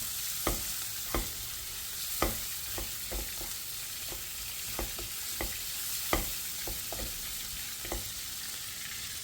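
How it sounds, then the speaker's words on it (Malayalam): Chicken meat fries with a steady soft sizzle in a pan while a spoon scrapes and stirs it in sharp, irregular clicks, fairly quiet with no voices. "ഇവിടെ ഇടയ്ക്കിടയ്ക്ക് ഇറച്ചി വറുത്ത് നമ്മൾ വറുത്ത് ആയോ ഇല്ലയോ നോക്കണം"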